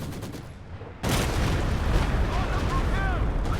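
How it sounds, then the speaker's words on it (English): A Stuka dive bomber barrage in Company of Heroes 2 hits with a sudden loud boom, then a sustained roaring rumble of explosions with faint whistling tones on top. "Here comes the Stuka barrage."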